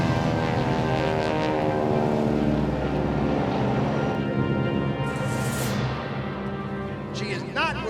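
Propeller airplane droning at an airshow as the aerobatic display with a wing walker begins, a sustained engine hum with shifting pitch as it passes, and an announcer's voice over a loudspeaker on top.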